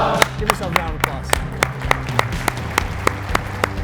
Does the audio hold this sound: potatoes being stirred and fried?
no